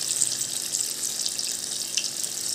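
Bhaji batter frying in hot oil, a steady broadband crackling hiss with small popping bursts that carries on evenly and fairly close, with no voices.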